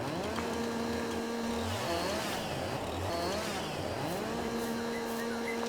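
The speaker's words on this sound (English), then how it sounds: "I'm more than happy to use a chainsaw to get rid of the stump" A chainsaw in Farming Simulator 22 revs repeatedly while cutting a tree stump, its engine whine rising and falling in several surges over a steady mechanical drone.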